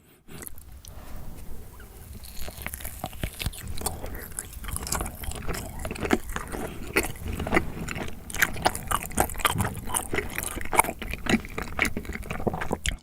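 Half-frozen Melona-flavoured rice cake being eaten up close, with steady wet chewing and crunchy, icy bites continuing throughout without talk.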